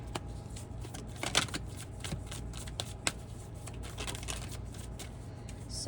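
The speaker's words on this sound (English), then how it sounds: "reshuffle" A deck of cards is reshuffled, with soft riffling bursts and a few sharper snaps over a quiet background, close and alone without talk.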